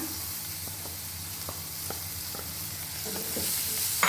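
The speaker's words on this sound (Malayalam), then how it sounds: "ഇതിലേക്ക് നമ്മൾ വേവിച്ച് വെച്ച ക്യാരറ്റ് ചേർത്ത് കൊടുക്കാം" Boiled carrots sautéing with pepper in a pan give a steady close sizzle, broken by several soft scraping stirs of a spoon, with no talking.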